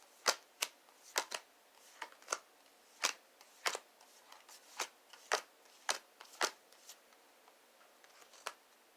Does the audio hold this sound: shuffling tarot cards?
yes